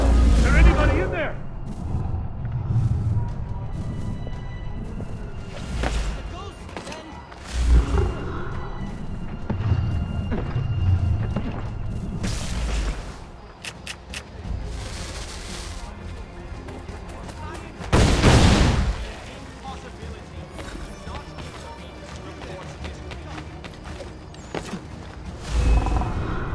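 Musket volleys in Assassin's Creed III Remastered: several loud, booming bursts of gunfire scattered through the stretch, mixed with shouted voices, crowd noise and a dense battle soundscape.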